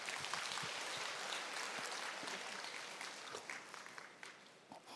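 Steady audience applause during a lecture, many hands clapping together, fairly distant and even, thinning slightly toward the end.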